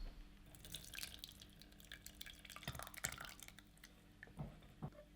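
Custard mixture for egg and bacon ice cream dripping through a sieve, faint scattered drips and soft wet trickles with light scraping of a ladle, close and quiet with no talking.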